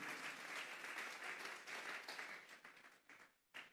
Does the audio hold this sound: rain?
no